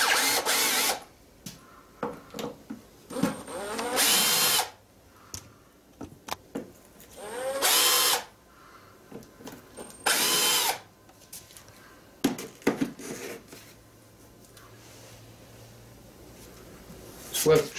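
Power drill backing out the screw of a sand casting box for a Bronze Age sword, in several short loud whirring bursts separated by pauses, with talk and handling clatter in between.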